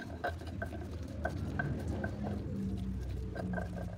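Stone mortar and pestle pounding chili sambal with terasi, salt and palm sugar, giving a steady run of close scraping and soft knocking strokes at a moderate level, with no talk.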